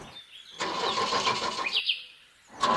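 A cartoon family car starts up and drives off, a sputtering engine and squeaky, chirping effects rising in tone, short and bright, with a clean break before a second burst.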